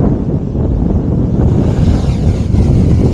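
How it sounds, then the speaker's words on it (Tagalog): Strong gusts blow across an open outdoor spot during a drone flight test, making a loud, steady rumble of wind buffeting the microphone for the whole stretch, with no voices. "ganyan siya kalakas, ganyan kalakas yung hangin"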